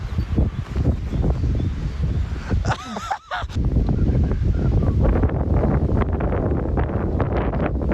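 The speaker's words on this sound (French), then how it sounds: "Il y a beaucoup de vent." Strong wind buffets the microphone in heavy, continuous gusts, loud and rumbling throughout, with a brief lull partway through.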